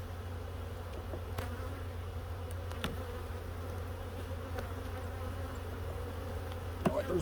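Honey bees hum steadily at an opened hive during a mite check and winter preparation, a dense continuous drone with a few faint knocks and clicks near the end.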